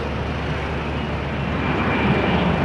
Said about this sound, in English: This is Austrian flight 380 to Vienna.